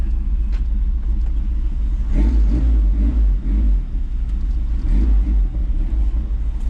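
A vehicle's engine runs steadily while it is driven in gear, its starter reported as faulty and its tachometer broken; a loud, continuous low rumble fills the scene, swelling in a few revving surges with no talk.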